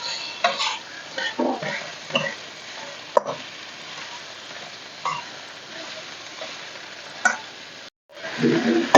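Sliced potatoes go into a pan of nearly fried onions and are stirred, giving a steady close sizzle broken by intermittent spatula scrapes and clacks against the pan.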